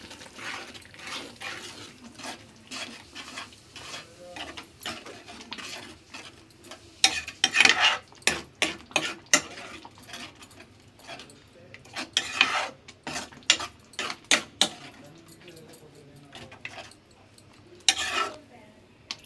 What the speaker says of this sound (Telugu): ఇప్పుడు దీంట్లో కొంచెం కారం, గరం మసాలా 1/4 స్పూన్, ధనియాల పొడి రుచి దగ్గర వేసుకుని బాగా కలుపుకోవాలి